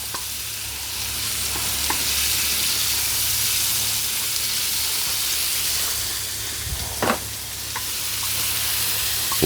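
A Mediterranean stir fry sautés on a Firedisc cooker outdoors, giving off a steady, dense sizzle with occasional clicks and scrapes of a utensil against the pan.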